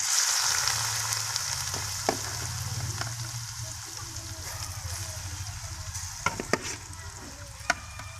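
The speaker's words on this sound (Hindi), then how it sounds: "2 से 3 इलायची हमने इसमें डाल ली है। इनको देसी घी में अच्छे तरीके से मिक्स करें।" Cardamom pods crackling in desi ghee while being stirred, a steady close sizzle with a low rumble underneath and a few sharp spoon scrapes and taps against the pan.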